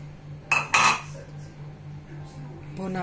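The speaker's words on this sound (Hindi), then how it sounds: "हम अब इसमें डालेंगे ये चीनी," Sugar added to tamarind chutney boiling in a pot on a gas stove, heard as two sharp metal spoon clinks against the pot, followed by a low steady hum and a faint later scrape.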